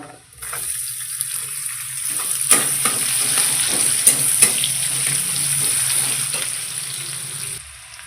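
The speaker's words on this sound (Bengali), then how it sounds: "তো পেঁয়াজ দিলাম" Onion frying in a pan for a Rajasthani-style dish: a sustained close sizzle with scraping stirs and a few sharp utensil taps, ending abruptly.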